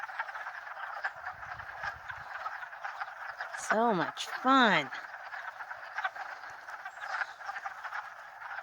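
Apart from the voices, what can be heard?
frogs croaking, spring peepers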